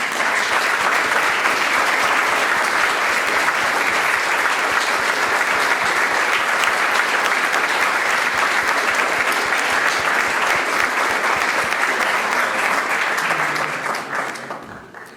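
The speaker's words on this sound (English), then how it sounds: "if you would rise so we can give you a round of applause" An audience at a 75th anniversary educator panel event applauds educators with sustained, dense clapping from a large crowd that keeps a steady level for about thirteen seconds, then fades out at the end.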